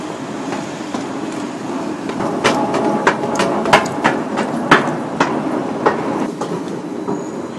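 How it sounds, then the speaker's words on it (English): Paris Metro Line 6 train arriving at a station, a steady rolling rumble with sharp metallic clacks and squeals from the wheels repeating every second or so, close and fairly loud, no talking. "we just wait for a train to come"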